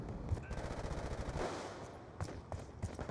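Rapid automatic gunfire from Black Ops 2 multiplayer, bursts crackling across the whole clip with a few sharper shots standing out, loud and close, no talking.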